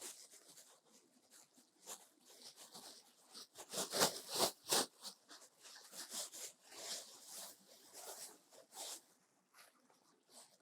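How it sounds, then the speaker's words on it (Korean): A plastic bag of potting soil for a fern terrarium is worked open, giving soft crinkling, rustling and scraping in irregular bursts, quiet and close, loudest in a flurry midway, with no talking. "비닐봉지를 여는 건 항상 쉽지가 않아요"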